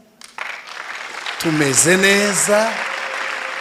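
A church congregation breaks into sustained applause that builds quickly and holds, while a voice speaks and sings over the clapping.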